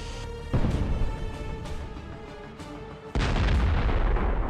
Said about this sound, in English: The turret is blown off by an explosion of such power.